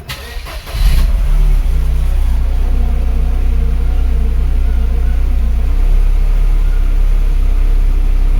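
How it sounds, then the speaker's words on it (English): A 1995 Mercedes Model 210 car engine cranks briefly, catches, then settles into a steady, loud, close low-pitched idle rumble that continues unchanged without any talk. "we'll start the car."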